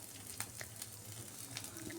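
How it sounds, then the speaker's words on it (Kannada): Onion and garlic frying in a spoonful of hot oil in a pan, giving a steady low sizzle with faint crackles throughout and no talking. "ಈಗ ಸ್ವಲ್ಪ ಕಾದ್ಮೇಲೆ ಈರುಳ್ಳಿ ಮತ್ತು ಬೆಳ್ಳುಳ್ಳಿನ ಫ್ರೈ ಮಾಡ್ಕೊತಾ ಇದ್ದೀನಿ."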